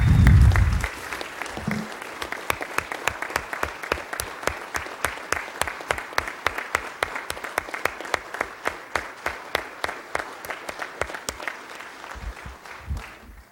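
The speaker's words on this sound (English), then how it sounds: "please join me in giving Cedric Edwards and Michael Carpenter a standing ovation for their years of service" Standing ovation at a Schertz city council meeting: steady, rhythmic clapping from a modest indoor gathering fills the room for over ten seconds, loud and continuous, then tapers off with a brief murmur of voices.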